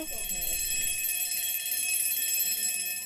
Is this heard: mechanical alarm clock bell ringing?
yes